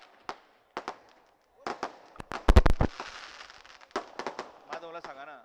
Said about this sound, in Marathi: फटाके फोडणाऱ्यांना नम्र विनंती आहे की फटाके थांबवा